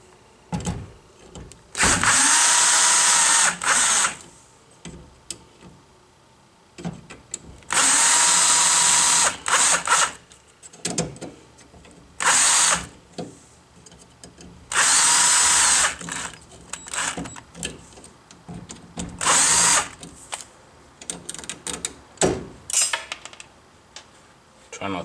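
Cordless power drill backing screws out of a household electrical outlet in bursts of whirring, loud and close, separated by pauses with light clicks and handling noises.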